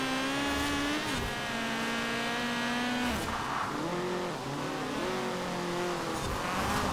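A race car engine in the video game Forza Horizon 4, roaring continuously at high revs with rising and falling pitch through gear changes, loud and steady with no talking.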